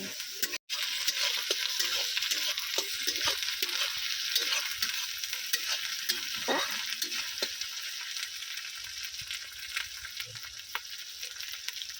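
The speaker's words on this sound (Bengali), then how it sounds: "এবারে দিয়ে দেবো রসুন বাটা আদা বাটা আদা রসুনটাও কিন্তু খুব ভালো করে কষিয়ে নেব" Ginger-garlic paste with fried onions sizzles steadily in hot oil, a constant bright frying hiss broken by scraping and clinking stirs of a spatula in the pan.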